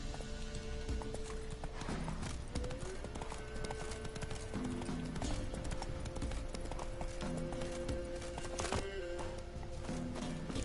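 Roach the horse from The Witcher 3 galloping, a rapid rhythmic clip-clop of hooves that continues steadily throughout, over game music and ambience.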